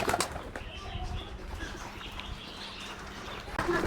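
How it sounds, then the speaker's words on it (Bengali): Soft pigeon coos mixed with occasional wing flutters and light rustling from moulting pigeons, moderately close, with a faint voice in the background. "এই তারে আছে কিছু কবুতর দেখতে পাচ্ছেন"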